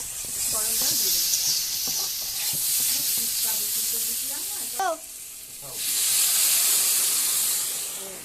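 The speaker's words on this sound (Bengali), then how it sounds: "এবার আমি খুব সামান্য পরিমাণে গরম জল দিয়ে দেবো।" Hot water poured onto masala fried for an egg curry, a loud sustained steam hiss and sizzle that drops away briefly midway then surges again, with a voice speaking underneath.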